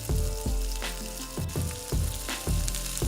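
Chicken pieces for a zinger roll deep-frying in hot oil, a steady close sizzle with bubbling bursts throughout, no voices.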